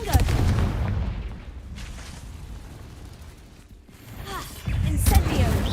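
Confringo fire blast spell cast in the Hogwarts Legacy video game, a rumbling explosive burst opening the moment, dipping into a low roar, then swelling again into another loud blast near the end.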